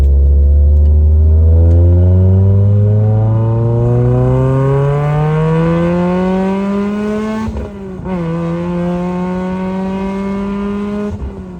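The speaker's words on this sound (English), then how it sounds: "The 5th version of the exhaust, basically nothing back here anymore. It's just a standard AutoZone cherry bomb," A car fitted with a standard AutoZone cherry bomb muffler and almost no other exhaust roars loudly, climbing steadily in pitch as it accelerates, dipping briefly at a shift, then droning on at high revs.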